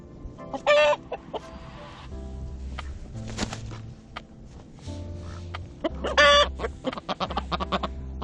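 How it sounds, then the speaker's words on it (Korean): Two loud bursts of hen clucking and squawking as a male duck tries to mate with her stand out over steady low-pitched honking and rustling from other ducks nearby. "이브가 암탉 한 마리와 교미를 하려고 시도하고 있다"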